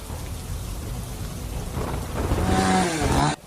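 Heavy rain driven by strong wind lashes down in Veraval, Gujarat, a dense steady roar that swells toward the end before cutting off abruptly, with no voices.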